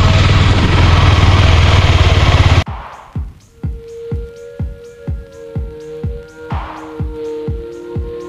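A motorcycle engine starts after a loud wind-like rush and settles into a close, rhythmic idle, with a steady low thumping pulse repeating about once a second and a faint whine above it.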